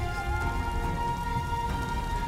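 Heavy rain pours down in a dense, continuous patter, steady and fairly loud, with a faint tonal hum underneath and no voices.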